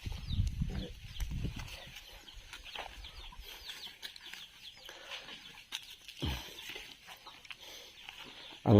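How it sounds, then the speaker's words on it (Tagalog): Chickens clucking and a rooster calling at close range around a rural yard, with scattered bird calls and a burst of wing flapping near the end, in fairly quiet surroundings. "Ang manok Sam."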